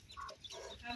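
A chicken clucks in a short run of soft, quick calls at a rural outdoor spot, fairly faint and slightly distant.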